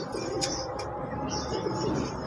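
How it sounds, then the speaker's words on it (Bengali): A male and female pair of fancy pigeons on a farm, coos and soft calls close by, with a couple of brief sharp chirps over a steady murmur of background noise. "দুইটা কবুতর একবারে সেম টু সেম, ইভেন ওরা খুবই ডাকাডাকি করে"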